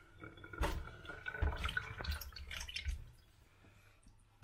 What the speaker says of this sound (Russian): Далее мы сольем воду